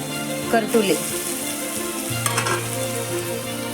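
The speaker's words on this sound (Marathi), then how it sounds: "करटुल्याला एक वेळेस फिरून घेऊया, परतून घेऊया" Spiny gourd cooked with a chana dal mixture sizzles in a pan while a spoon scrapes and turns it, a continuous close frying hiss broken by brief stirring clatter.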